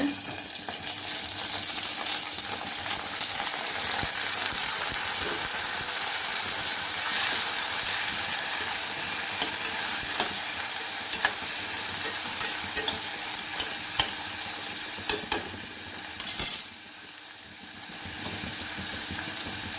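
Onion, curry leaves and cumin with snake gourd fry in a pan for a Tamil snake gourd and chana dal stir-fry, giving a continuous close sizzle and hiss with occasional stirring scrapes, no voices.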